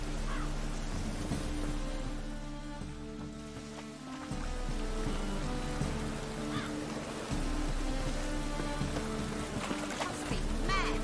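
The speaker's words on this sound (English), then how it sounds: "Must be mad running around in this rain." Steady rain in The Witcher 3 Wild Hunt, a constant hiss of falling water under a low tonal game ambience and music, with a brief dip in loudness midway.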